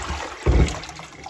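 Water from a leak is tipped out of pails in a French house, one brief low splash and gush midway through an otherwise quiet moment.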